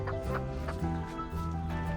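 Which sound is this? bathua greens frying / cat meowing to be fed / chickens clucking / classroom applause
chickens clucking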